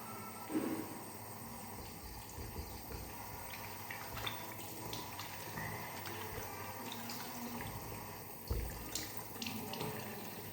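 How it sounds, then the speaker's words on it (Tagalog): Steady running tap water, turned down low, splashing into a sink, a continuous hiss with a few louder splashes, close by and without talk. "Hininaan ko lang yung agas ng tubig para ano,"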